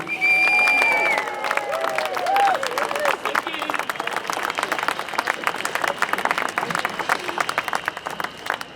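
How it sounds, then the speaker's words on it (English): A rally crowd at a Believe In Scotland march gives a round of applause, with dense continuous clapping and some cheering throughout, fairly loud, while a voice briefly carries over the start. "give a massive round of applause for Marlene Halliday"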